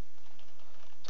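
Short burst of typing on a computer keyboard while entering a command into a Minecraft Bukkit server chat, several quick close clicks with no talking.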